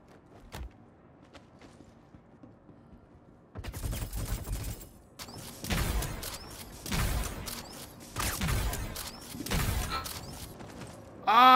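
Gunfire from a gun in the video game Star Citizen: after a quiet stretch with a few small clicks, several loud bursts of shots ring out in repeated volleys with reverberant tails, no talk over them.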